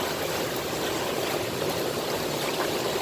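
Water moving through a small natural pool beside a quartz vein and broken schist used for gold panning, a loud, constant rushing and trickling that fills the whole clip with no voices.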